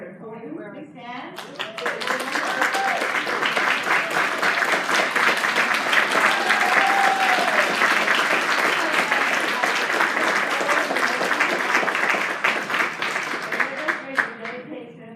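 An audience at a fall new-teacher induction ceremony gives sustained applause as new teachers stand, the clapping swelling to a full, dense wash for several seconds before tapering off at the end.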